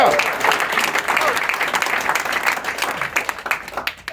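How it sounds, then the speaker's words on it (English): Audience applause for a community award honoree at a startup event, a dense, steady wash of clapping that carries through the whole stretch and thins slightly near the end. "Come on, get your round of applause."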